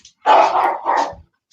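A dog barks loudly and close by, two rough barks in quick succession with a short growly tail, heard alone with no talk over it.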